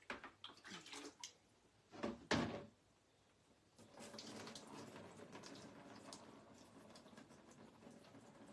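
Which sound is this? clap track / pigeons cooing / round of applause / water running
water running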